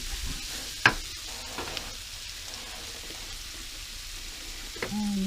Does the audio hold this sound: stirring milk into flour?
yes